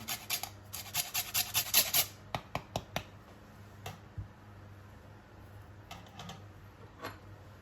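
A lime is zested on a grater for a mint and lime granita, giving a quick run of sharp rasping strokes that then thins out to a few scattered scrapes. The sound is close and fairly quiet, with no talking.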